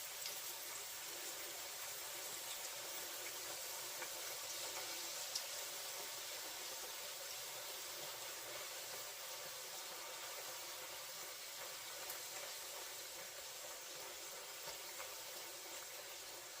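Fry bread dough frying in a pan of hot oil, a steady broadband sizzle and hiss holding at an even level throughout with no talking.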